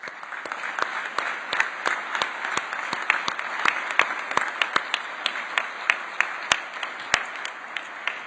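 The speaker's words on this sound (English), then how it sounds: "You want to stand up so we can give you both applause?" Sparse applause at a Senate ceremonial celebration: a small group claps steadily, with distinct individual claps over a soft wash of hands, moderately close and without speech.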